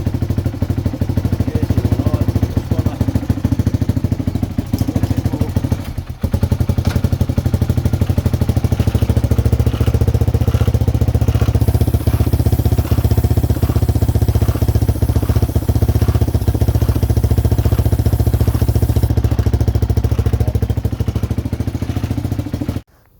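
A 1978 Honda XL 250 motorcycle engine runs loud and close, shifting through the gears. Its steady mechanical roar and rattle hold for about twenty seconds, with a brief dip near the start, before cutting off at the end.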